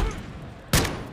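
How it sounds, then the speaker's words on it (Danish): A single sharp gunshot goes off in Warzone 2.0 while the player is looting, cutting in loudly partway through after a stretch of quieter game sound. "Prøv at se det der, hvorfor skyder jeg et skud"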